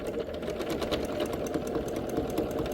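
A sewing machine stitches in the ditch along a quilt sashing strip, a steady, fast mechanical chatter with a low motor hum, close and even throughout, with no voices.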